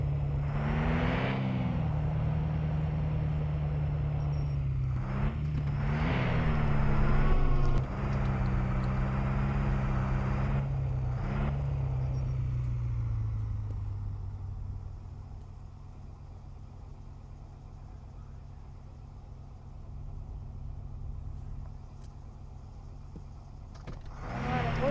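A Clio or Golf driven in the Şahin Simulator video game, its engine droning loudly with a few revving swells before settling into a quieter steady hum.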